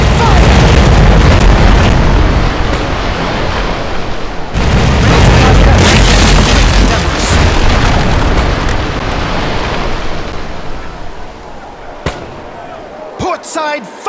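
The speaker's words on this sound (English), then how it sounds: "Port side, fire!" Heavy ship cannon fire in a video game thunders in sustained, rumbling booms, then fades to a few sharper cracks and thuds near the end, with voices briefly.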